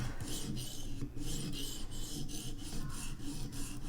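A knife blade is drawn across a Vipersharp sharpening stone in quick, regular rasping strokes, about eight close scrapes in a steady rhythm.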